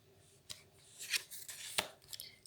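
A deck of tarot cards is cut and shuffled, with soft papery slaps and a brushing riffle that rise to two sharper snaps, quiet and close, no talking.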